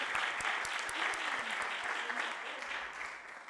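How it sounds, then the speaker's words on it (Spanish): An audience at a photography conference applauds steadily, a soft, fairly distant wash of many hands clapping with a few sharper nearby claps. "Un aplauso para vosotros mismos y para la organización."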